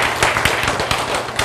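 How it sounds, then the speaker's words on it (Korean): Audience applause at a Korean health lecture, a dense steady patter of many hands clapping together at a moderate distance, filling the room without any talk over it. "박수"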